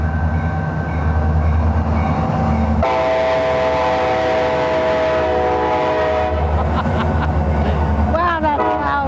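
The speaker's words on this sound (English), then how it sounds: "The train." A train rumbles past close by with a steady heavy roar, its horn blaring in the middle, and a voice speaks near the end.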